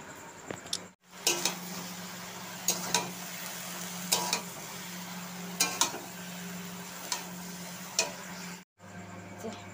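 Cooked rice with panch phoron stirred and fried in a pan, a quiet sizzle under intermittent scraping clicks of the spatula at irregular intervals, close by with no talking.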